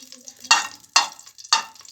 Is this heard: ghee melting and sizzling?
yes